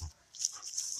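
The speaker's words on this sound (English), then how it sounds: "My dogs." Dogs give a brief, thin, high-pitched whimper that is soft and close, lasting under a second with a low thump at the start.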